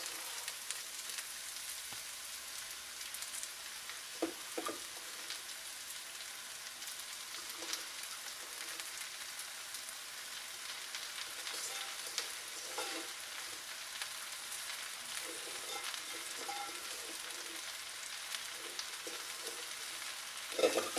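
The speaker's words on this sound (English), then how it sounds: "for like about 15 seconds, stir it, and the heat of the vegetables and the pan will wilt it" Fresh spinach wilts in a hot pan with vegetables while being stirred, a constant soft hiss of frying with occasional light scraping and shuffling strokes, fairly quiet and close.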